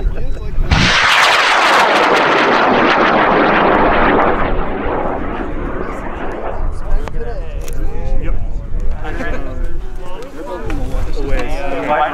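A high-power model rocket launching at the Northwest eXtreme Rocket Show in 2021 gives off a sudden loud roaring blast that fades slowly over several seconds as it climbs away, with voices talking as the roar dies down.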